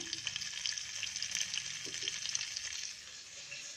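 Peanuts roasting in a pan give a steady, soft sizzling crackle with faint scraping stirs throughout, moderately quiet and alone without voices.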